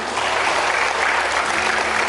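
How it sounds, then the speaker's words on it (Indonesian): Children at an ESQ training event for kids and teens in Kota Banjar applaud together, a steady dense wash of clapping that holds at an even level throughout, close and loud with no voices. "Tepuk tangan dulu semuanya."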